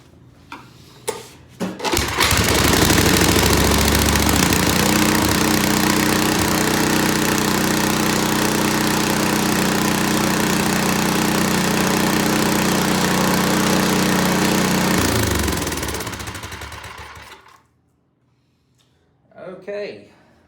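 Ariens RT7020 tiller engine roaring steadily at raised throttle in neutral, loud and close for about thirteen seconds before winding down and cutting out, with brief talk at the start.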